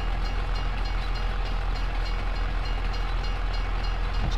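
Canadian Railway freight cars pass in Farming Simulator 22, producing a constant heavy rumble and rail hiss with faint rhythmic wheel beats, steady and close throughout, no voices.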